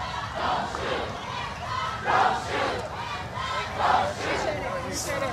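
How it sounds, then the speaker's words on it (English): Large outdoor crowd of George Floyd protesters in Charlotte, North Carolina, shouting and cheering in rising waves of chanting voices that swell and fade several times, loud and continuous. "This is a huge crowd."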